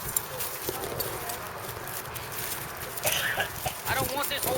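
Horse hooves clip-clop on the ground during a basic horsemanship session, a light irregular stepping rhythm close by, mostly under steady noise with a louder burst of movement near the end; no clear speech is heard.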